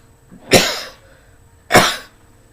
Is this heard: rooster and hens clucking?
no